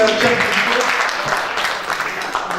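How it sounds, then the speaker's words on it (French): Audience applause at a talk about harkis arriving in France, a dense broadband patter of many hands clapping steadily throughout, moderately loud with no clear voices over it. "je crois qu'on l'applaudit encore"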